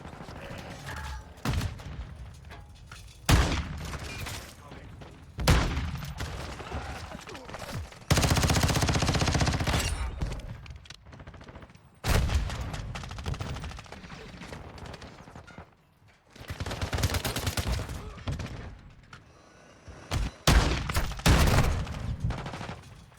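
Bursts of automatic gunfire from a Call of Duty match come in loud, repeated volleys separated by short pauses, some long sustained strings and some brief sharp shots, with the loudest bursts up close.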